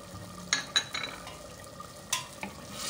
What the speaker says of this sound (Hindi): इसकी हम अच्छे से भुनाई करते हैं